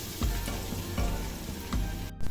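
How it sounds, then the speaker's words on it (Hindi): Two medium onions fry in preheated oil for yellow moong dal, making a close, steady sizzle with a few soft stirring thumps. "प्याज हो रहा है अच्छे से फ्राई।"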